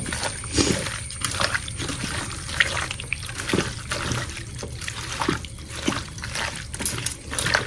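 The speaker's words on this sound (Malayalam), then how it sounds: "ഇത് നമ്മള് സൺഫ്ലവർ ഓയിലും കൂടി ഒഴിക്കണം" Sunflower oil is poured into a pot while cooking kuzhimandhi, a close, uneven trickle and splash that runs on for several seconds without talk.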